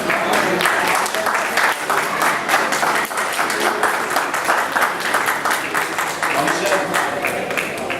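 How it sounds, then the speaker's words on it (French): A live audience applauds Marcel as he arrives: dense, steady clapping from a crowd that stays loud and unbroken for the full eight seconds. "Voilà Marcel sous vos applaudissements."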